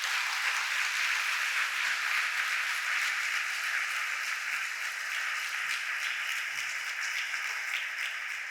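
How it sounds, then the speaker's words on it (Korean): A church congregation applauds as a pastor comes forward at a Friday late-night prayer meeting, a steady, dense roar of many hands clapping at an even level throughout, with no voices over it. "목사님 나올 때 큰 박수로 해주세요"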